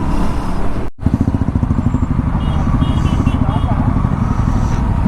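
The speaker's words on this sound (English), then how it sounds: "The bike is in the second gear and I am not giving the accelerator" An Aprilia RS 457 motorcycle engine idles and putters at low speed in second gear with a steady rhythmic thrum, close up, crawling in rainy city traffic with traffic noise around it.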